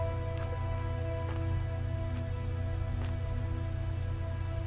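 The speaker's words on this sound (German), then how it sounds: "Aber doch, irgendwie regnet es, aber irgendwie nicht so richtig." Rain in the video game Under the Ocean falls as a steady, even wash of noise with a few faint drop-like ticks, continuous and alone with no speech.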